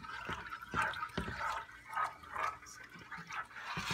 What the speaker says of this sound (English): stirring constantly after you add the milk in. This is making, that will make it thicken.